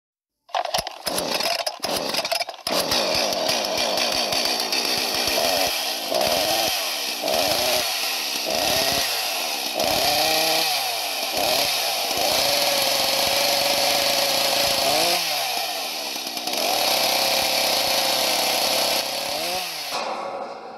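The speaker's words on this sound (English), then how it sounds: "I guess my chainsaw can open it." A chainsaw is pulled and sputters a few times, then roars continuously, revving up and down loudly and close for the rest.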